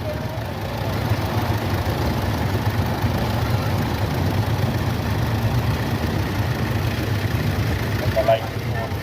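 A vintage 1960s Nuffield 10/60 tractor with a 60-horsepower engine idles with a steady, low, even rumble, while someone talks over it throughout.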